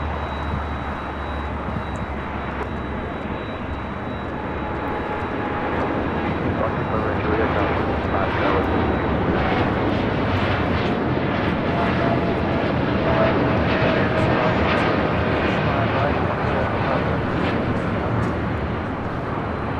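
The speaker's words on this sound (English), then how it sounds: "United Dreamliner now rolling down at 25 right" United Airlines Dreamliner rolling down runway 25 right at LAX on takeoff, a sustained jet engine roar that builds gradually across the stretch, with people talking beneath it.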